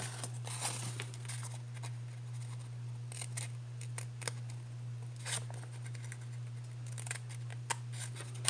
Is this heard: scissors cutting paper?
yes